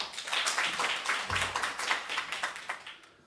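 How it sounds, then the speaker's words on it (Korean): A conference audience claps to welcome a speaker, a fairly close and moderately loud run of rapid, uneven hand claps that fades toward the end, with no voices over it. "큰 박수로 환영해 주시기 바랍니다"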